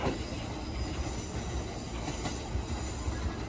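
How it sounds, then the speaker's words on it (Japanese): Train arriving at a station platform on a busy evening after a fireworks festival, a continuous heavy rumble of rolling wheels with faint squeal, close and steady throughout. "2番線に到着しました列車は、18時44分発、普通列車高須。"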